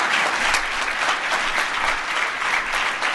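A crowd gives sustained, steady applause for President Paul Kagame of Rwanda, a full even wash of clapping that holds at the same loudness from start to finish with no voices breaking through.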